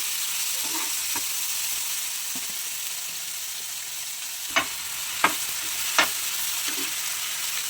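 Masala-coated okra fries in a pan with a soft, steady sizzle. A few distinct knocks and scrapes from stirring punctuate the gentle frying noise.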